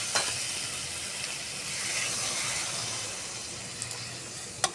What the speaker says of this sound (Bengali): আমার কষানো হয়ে গেছে, এবার এর মধ্যে আমি জল দিয়ে দেবো।